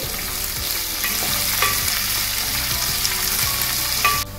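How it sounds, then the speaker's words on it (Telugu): Sliced onions for a puri curry fry and are stirred in a pan, a continuous close sizzle punctuated by regular scraping strokes of a spatula, with a brief louder clink near the end. "ఇదిగోనండి ఆనియన్ అంతా కూడా కొంచెం ఇలా ఫ్రై అయ్యింది"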